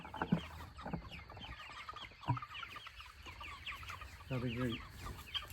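Meat chickens cluck and chatter softly nearby outdoors, with scattered short calls and one louder rising squawk, while a person speaks briefly over them.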